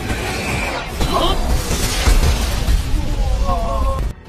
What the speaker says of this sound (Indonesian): Ledakan itu terdengar oleh yang lainnya